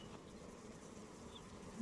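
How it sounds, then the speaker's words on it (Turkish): Honey bees at a hive kept for chestnut honey give off a faint, steady buzzing drone, low and continuous, with no talk over it. "Bak arı nasıl aşağı çöktü gördün mü?"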